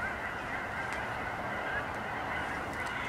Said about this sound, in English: late in the year for the geese to be here